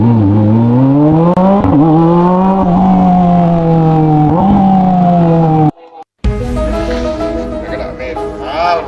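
Kawasaki ZX motorcycle engine blipping and revving hard on downshifts, loud and close, with rising and falling harmonic whine, a brief cut near the end before the revs surge again with some gear noise.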